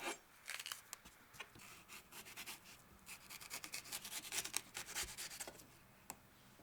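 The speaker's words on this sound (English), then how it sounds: "Now we're going to brunoise the peppers." A knife brunoise-cutting bell peppers, trimmed and seeded, on a board while making crab cakes: soft, irregular short scrapes and taps, quiet and close, with no talking.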